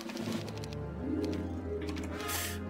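A pigeon in a video game gives soft, low cooing phrases over a busy background of music and game sounds, faint and fairly quiet, with no talking.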